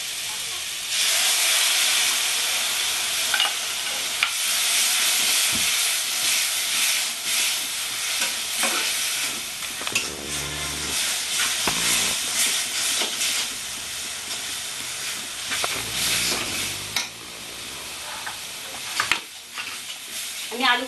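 Chilli powder mixed with water into a paste hits a hot, lightly oiled pan and sizzles loudly with strong steamy hiss, broken by stirring scrapes and clinks over a long continuous stretch.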